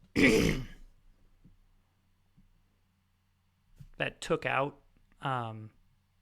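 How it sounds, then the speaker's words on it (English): A single harsh throat clearing at the start, followed by quiet, then a few short vocal grunts and murmurs. "Had to aggressively clear my throat there."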